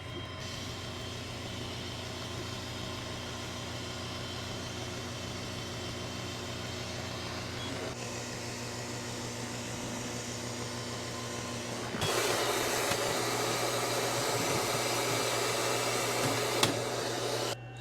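An Xtool M1 10W diode laser cuts 4 mm acrylic with a steady whirring fan and motor hum and a sustained mechanical drone that grows louder partway through, with no talking.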